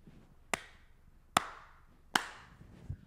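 Three separate, crisp hand claps spaced unevenly about a second apart, close and sharp against a quiet room.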